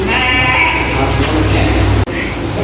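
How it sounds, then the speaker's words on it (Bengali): A sheep bleats loudly and close at hand during Eid ul-Adha eve, one long wavering cry that is cut off by a sharp click near the end. "এই ভেড়াটা দাঁড়ায় এখন আরো সুন্দরভাবে পোজ দিতেছে"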